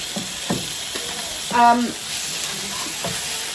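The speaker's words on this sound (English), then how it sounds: "Gonna brown all the sausages off" Sausages browning in a pan give a steady frying sizzle, with a brief louder burst of clatter and hiss midway; a voice speaks faintly underneath.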